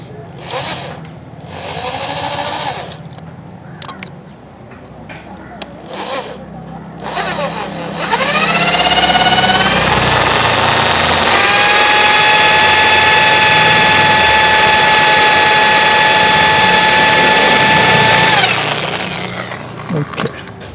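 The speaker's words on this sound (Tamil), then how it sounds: "இப்போ நம்ம அதில் ஒரு பஞ்ச் பண்ண இடத்துல ஒரு ட்ரில் போட்டுக்கலாம்." A loud electric drill whirs steadily for several seconds, its pitch rising as it spins up and holding a sustained whine before stopping, drilling into a broken oil filter cap bolt on a Bajaj NS/RS 200 motorcycle.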